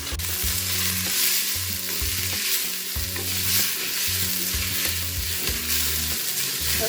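Garlic stirred in butter in a pan, a steady close sizzle with repeated scraping strokes of a utensil throughout, continuous and moderately loud.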